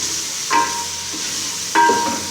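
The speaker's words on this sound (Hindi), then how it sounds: "अब इसके अंदर टमाटर ऐड करेंगे। इनको अच्छी तरह पका लेंगे।" Tomatoes cooking with spices in a pan for an aloo matar gajar vegetable curry, giving a steady background sizzle with two brief louder stirring scrapes.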